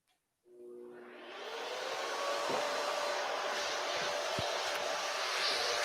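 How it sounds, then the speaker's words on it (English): A Festool shop vacuum in a woodworking shop switches on after a brief silence, spinning up into a steady, even whoosh that holds constant to the end, with no talking. "Their vacuum is quiet."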